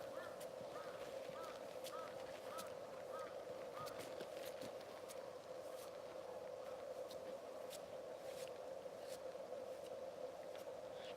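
Geese honk in snowy Hokkaido, a flock calling repeatedly in faint, scattered honks over a constant droning background, somewhat distant and spread across the whole stretch.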